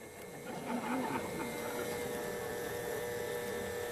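A kitchen machine grinding pecans in a studio cooking show, a loud continuous strained motor whine with a grinding rattle, steady and close throughout.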